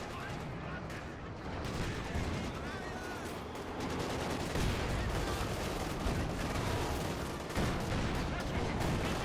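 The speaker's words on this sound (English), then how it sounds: "Panzer IV suffering the brunt here of a lot of lines of tank guns firing from the front" Dense, continuous battle noise from the video game Company of Heroes 2, with tank guns firing and booming explosions layered together at high volume, while a commentator talks over it.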